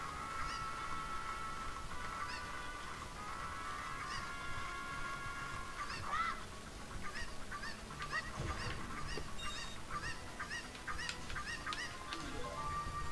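Chickens clucking in the video game The Legend of Zelda: Ocarina of Time Master Quest, repeated short squawking calls over steady game music and ambience, fairly quiet and scattered through the span.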